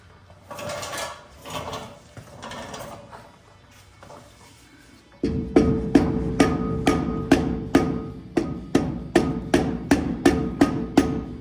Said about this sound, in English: let me grab a mallet